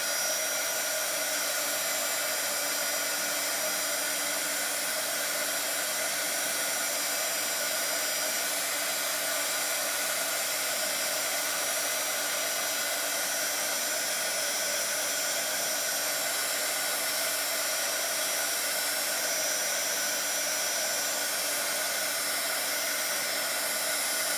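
Heat tool blowing on decorated dominoes, a steady loud whooshing airflow that runs unbroken for the whole stretch, close by with no talk.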